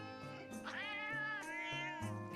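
A cat in Metal Gear Solid: Peace Walker meows in a couple of drawn-out, rising and falling cries, close and clear over soft game background music, with no talking.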